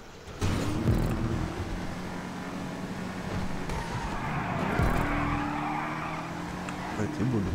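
A car in a GTA street race slides sideways through a drift turn, its engine droning loudly while tires squeal and skid under someone speaking French.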